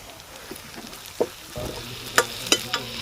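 Curry leaves frying with onion in hot oil for a Bachali kura fry, a sudden loud sizzle swelling up, then repeated sharp scraping stir clicks against the pan.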